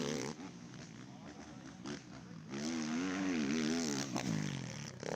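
ATV motocross race engine at a national championship, revving and easing as the rider gets on and off the throttle through a corner, with a wavering loud drone that swells near the middle, under faint background noise.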